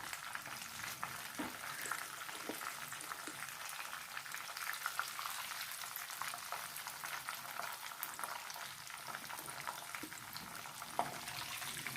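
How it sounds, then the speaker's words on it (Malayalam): KFC-style chicken pieces deep-fry in hot oil at home, giving a steady, close crackling sizzle with scattered louder pops, continuous and unbroken, with no talking. "അതുപോലെ ബാക്കിയെല്ലാം നമുക്ക് പൊരിച്ചെടുക്കാം"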